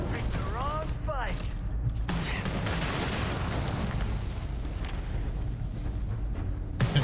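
Starfield combat gunfire crackles in steady, overlapping bursts through most of the stretch, sitting under a talking voice amid other game noise.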